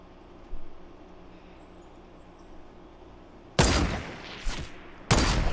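Sharp, loud gunshots crack in Fortnite, three close blasts arriving late after a quiet stretch, the first followed by a short echoing tail and a quicker pair after it.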